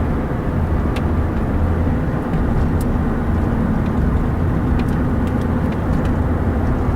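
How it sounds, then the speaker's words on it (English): A car cruising along a rural road past houses and a gas station, with a steady low rumble of engine and tire noise throughout and no talking. "Alright, so we're driving down the road."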